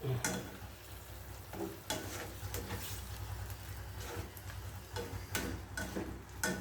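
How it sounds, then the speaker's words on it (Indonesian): Sambal tauco stirred in a pan gives soft sizzling under repeated scraping and clinking strokes from a utensil, steady and close with no talk. "Setelah itu kita aduk."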